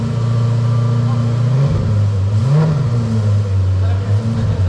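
A V8 Audi RS5 fitted with an EVOX exhaust idles loudly up close, its deep rumble swelling into two short revs before settling back.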